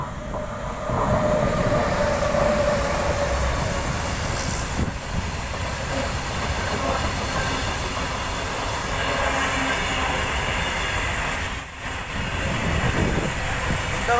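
A train rolls past on the railway track toward Ramagundam near Bijgir Sharif, a broad, steady rumble of cars and wheels that holds loud and even for the whole stretch, with no talk.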